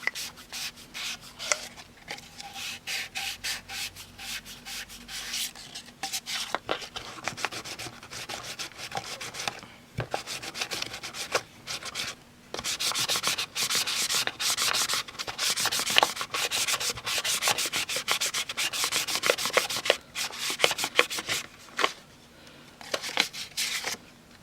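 Sandpaper rubbed back and forth over an airsoft pistol's mock suppressor ahead of spray painting, a close, steady scratchy rasp in quick repeated strokes that briefly pauses, then returns louder and more continuous.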